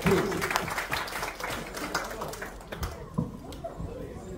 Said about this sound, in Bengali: জোরে একবার হাত তালি এজাজ আক্তার তৌফিকের জন্য